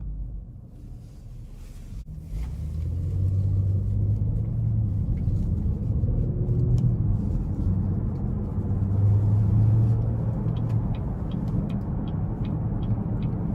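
A 2020 Chevy Impala 1LT with a V6 and six-speed automatic accelerates on the road, its low engine drone rising and holding steady inside the cabin, with faint clicks and ticks near the end.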